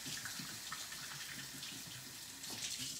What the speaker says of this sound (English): I'm going to rinse my hands off so that I don't accidentally light myself up